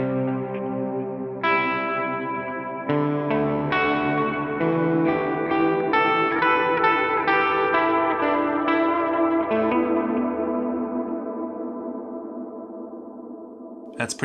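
An electric guitar through a Line 6 Helix-family hall reverb plays slow, ringing chords drenched in huge, spacious reverb, notes blooming and washing together before fading out.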